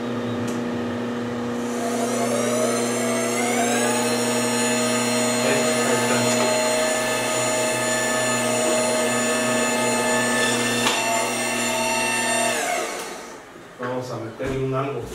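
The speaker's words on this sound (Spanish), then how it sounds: "Estamos con la lijadora de tambor lista." A loud drum sander motor spins up and runs steadily with a sustained tonal whine and hum, then winds down near the end.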